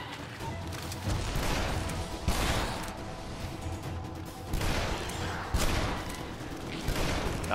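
Gunfire in the video game Shadow Warrior, dense volleys of shots and crashing impacts rolling in repeated loud waves over several seconds, with no talk over it.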